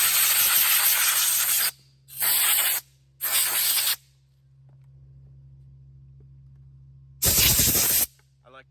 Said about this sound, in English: compressed air is pretty powerful